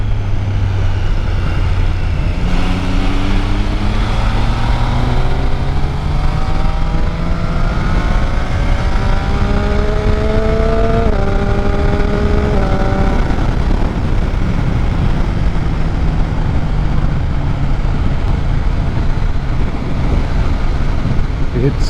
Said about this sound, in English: It's a great little bike.